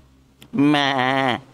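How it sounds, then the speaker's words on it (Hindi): A goat bleats loudly once in a long, wavering call that lasts under a second, after a brief quiet start. "मेरी बकरी को पता नहीं क्या हो गया, ये चुप ही नहीं हो रही है।"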